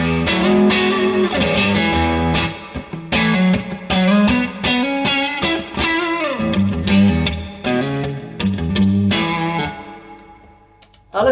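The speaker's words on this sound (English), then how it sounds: "So, Telecaster into the King of Tone, into the BigSky, into the Vox." A Telecaster runs through an Analogman King of Tone overdrive and a Strymon BigSky reverb into a Vox amp. It plays a steady, loud, driven melodic line with shimmering reverb tails that fade out at the end.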